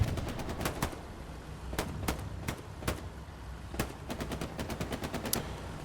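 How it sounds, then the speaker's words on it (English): An MG42 machine gun fires in the WWII shooter game Hell Let Loose, in rapid bursts of sharp shots over a steady ambient background, somewhat distant and faint. "Raw dogged him with the MG42"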